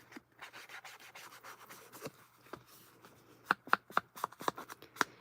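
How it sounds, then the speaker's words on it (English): Ink being rubbed onto a paper note card for an altered book craft: close, dry scraping and rubbing strokes, with a quick run of sharper, rhythmic swipes toward the end. "I'll put some ink on this guy"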